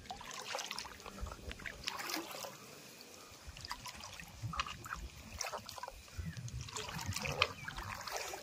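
Someone wades through floodwater in a village field in Kerala, with soft splashes and trickling swishes from each step, quiet and steady for several seconds.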